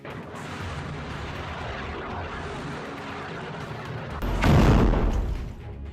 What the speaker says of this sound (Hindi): हिजबुल्लाह एक गाइडेड मिसाइल से हमला कर देता है